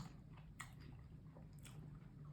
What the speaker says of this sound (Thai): กัดเข้าไปคำแรก